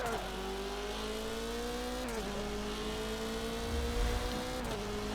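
A car being driven hard around a track after a drivetrain swap holds a steady, close engine drone, with the pitch dipping and climbing again at two gear changes.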